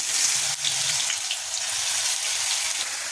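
Spice paste with poppy seed and caramelised sugar frying in a pan for a yogurt-coriander prawn curry, giving a steady, close, even sizzle with a brief dip near the start and no voices.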